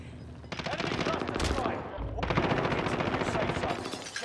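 Automatic fire from a RAM assault rifle in Call of Duty Warzone, two long rapid bursts with a brief gap between them, loud and close.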